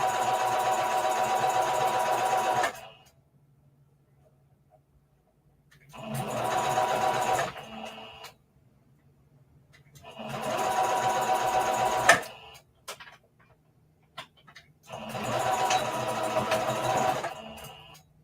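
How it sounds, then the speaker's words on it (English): Sewing machine stitching around the edge of a reversible bucket hat, running in four steady bursts of several seconds each with short quiet pauses between them, loud and close with no voices. "So I just started sewing while y'all was on commercial so we could get this done."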